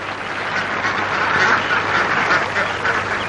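Ducks quacking in a steady, dense chorus at moderate distance, with the calls overlapping continuously and no clear pauses, in a 1953 film scene.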